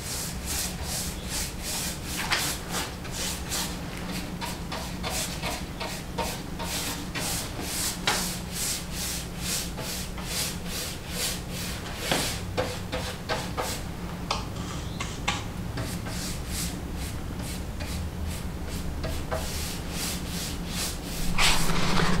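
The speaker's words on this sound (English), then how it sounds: "give this a light sand with 220" Quarter sawn oak chest, restored after flood damage, getting a light hand sanding with 220 grit paper: steady rhythmic back-and-forth rubbing strokes, close and continuous, with no talking.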